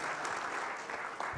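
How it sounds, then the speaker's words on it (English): At the end of a tech conference accelerators panel, an audience gives steady, faint applause that washes on with no break, heard from a distance in a hall. "A big round of applause."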